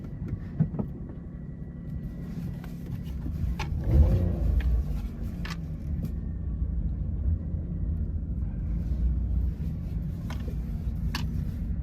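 Small hatchback, a Maruti S-Presso or Renault Kwid with a three-cylinder engine, starting up and reversing: a steady low engine rumble with a brief surge near the start, running alone without talk.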